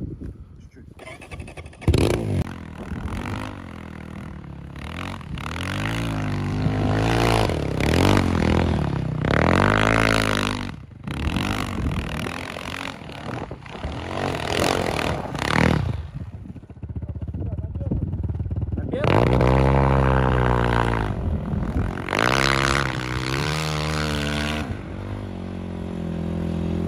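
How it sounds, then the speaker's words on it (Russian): A snowbike engine revs hard out of a slow, tight turn, the motor note rising and falling loud and close across the run with brief dips, mixed with engine clatter and talk over it. "Из поворота газанул"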